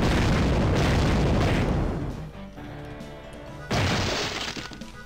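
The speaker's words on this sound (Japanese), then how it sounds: "冷蔵庫爆発した" A refrigerator explodes in Dynamite Cop 2 on the Dreamcast: a loud shattering blast with crashing debris fades out, followed by a second sharp burst of breaking noise.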